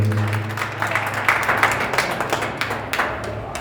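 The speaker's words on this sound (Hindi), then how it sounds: "इसके लिए तालियां हो जाता है एक बार।" Audience members at a Hindi poetry gathering clap steadily in a dense round of applause, a few sharper claps standing out, with a low hum beneath.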